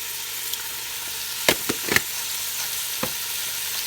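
Garlic fries in oil with a constant close hiss, broken by a few sharp clicks and scrapes from stirring, and no one speaks.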